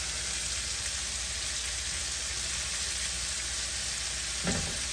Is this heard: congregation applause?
no